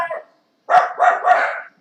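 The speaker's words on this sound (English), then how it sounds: "you notice the dogs are barking?" Dogs bark nearby, with one short yip followed after a pause by three quick loud barks in a row.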